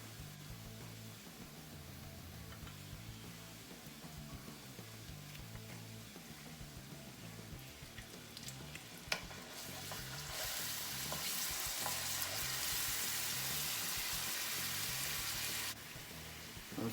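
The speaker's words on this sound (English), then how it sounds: "We're just going to saute this till the garlic gets nice and soft" Garlic sautéing with tamarind paste in a hot pan gives a steady close sizzle with occasional stirring scrapes, growing louder and brighter partway through as the frying intensifies.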